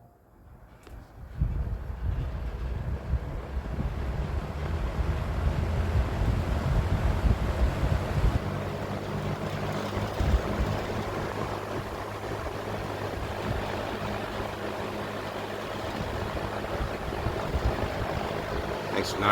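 A Markel 20-inch box fan switches on at high speed with a soft click, then a steady, loud airy whoosh and low motor hum run evenly and close for the rest of the stretch.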